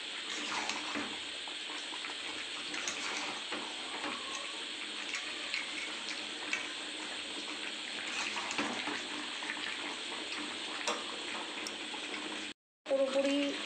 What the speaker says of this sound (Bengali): গরম জল করে রেখেছিলাম, গরম জলটা দিয়ে দিলাম